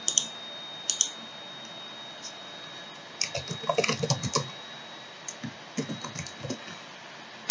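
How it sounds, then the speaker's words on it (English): Fast typing on a computer keyboard, with scattered quiet clicks and then denser bursts of keystrokes, close and fairly soft, with no voice over it. "So let me create a new folder."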